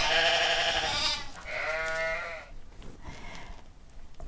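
A white woolly sheep gives two loud, wavering bleats close by, the second one shorter, followed by a fainter third cry, with no talking.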